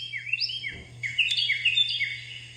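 A wren sings loudly and close, a rapid run of bright, high trilling phrases with short sweeping notes repeated across the whole stretch, over a low steady hum.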